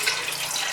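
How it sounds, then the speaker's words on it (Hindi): Tap water pours steadily into a cooking pot holding washed mutton liver, a continuous close, fairly loud broadband splashing rush with no voices. "अब क्या करेंगे, इसमें पानी शामिल करेंगे"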